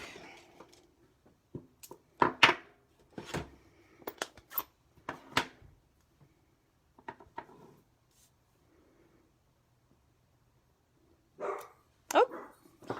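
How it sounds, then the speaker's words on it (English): Small puppy dogs bark indoors during a home stamping craft session, with loud, close yaps coming in irregular bursts separated by quiet pauses. "pardon my puppy dogs."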